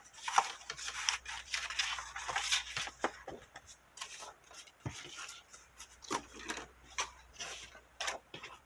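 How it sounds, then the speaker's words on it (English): Paper being torn from a premade journal, close and quiet, with repeated crisp ripping and rustling bursts in an irregular rhythm. "I think I'm going to need to tear this."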